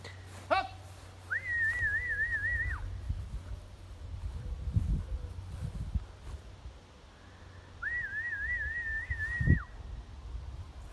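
A falconer's whistle recalling a flying bald eagle rings out in two warbling, trilled bursts several seconds apart, each holding a wavering pitch, over soft outdoor wind rumble and a brief sharp chirp near the start.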